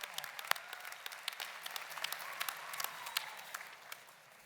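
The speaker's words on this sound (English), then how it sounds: "I'd like you to give them a round of applause" Audience applause at a university commencement ceremony, faint and distant, a sparse patter of individual claps with a few sharper ones standing out, thinning toward the end.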